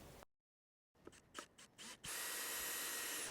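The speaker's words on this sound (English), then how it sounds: "we're just going to screw these two pieces together" Cordless power drill driving screws to join wooden pieces of a bird box: short whirring bursts, then a sustained, steady run of the motor to the end, close and fairly quiet.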